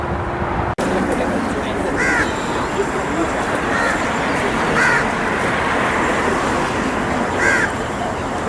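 Several harsh caws from crows and seagulls ring out every few seconds over a constant roar of wind and surf at Muttrah, Oman, with no talking.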